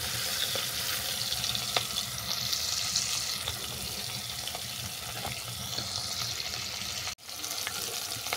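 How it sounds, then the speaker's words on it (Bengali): Taroi fish fry in hot mustard oil in a karahi, giving a steady, close sizzle and crackle that holds evenly, then briefly cuts out near the end. "এরপর মাছগুলোকে উল্টে পাল্টে বাদামি করে ভেজে নেব।"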